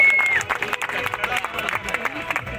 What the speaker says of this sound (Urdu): تالیوں کی گونج میں کھڑے ہو کر استقبال کریں